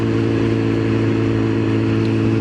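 A new hyperbike motorcycle's engine roars loudly and steadily up close, a dense continuous drone that holds its pitch through the short span; the quick-shifter upshifts are not clearly separable.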